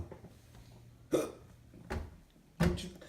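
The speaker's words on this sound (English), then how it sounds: "Hiccup." A person hiccups three times at uneven intervals, each a short, sharp, close gulping burst set against a quiet room.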